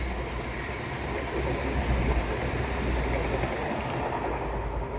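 The Babbacombe Cliff Railway funicular car, cable-hauled, rumbles along steadily, a continuous low mechanical roll with a faint whine above it.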